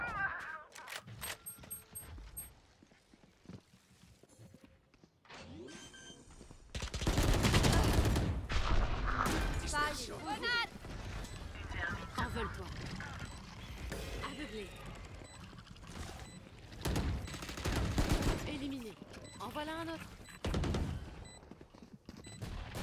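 Gunfire in the tactical shooter game Valorant: repeated bursts of rapid shots and weapon mechanism clatter, loud and dense through the middle stretch, with a player's voice talking over the action.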